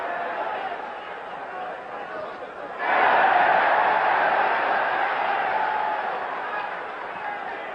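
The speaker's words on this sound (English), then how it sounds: "Hear the chant, Bouttier, Bouttier, Bouttier." A boxing crowd at a Monzon–Bouttier bout swells suddenly into a loud, sustained roar with rhythmic chanting of the fighter's name, following quieter crowd murmur.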